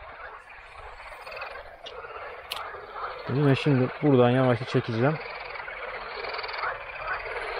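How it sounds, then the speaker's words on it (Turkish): Frogs croak in a burst of several ribbed, throaty calls near the middle of the recording, heard at a weedy pond during pike fishing, while someone talks over them and faint outdoor noise runs throughout. "Derken kurbağalar benim sesimi bastırmaya çalışıyor şu an."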